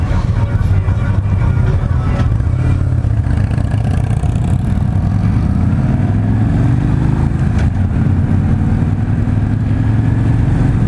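A 2016 Victory High-Ball stock motorcycle engine runs with a loud, continuous low rumble and slowly rising pitch, heard close up with wind noise throughout.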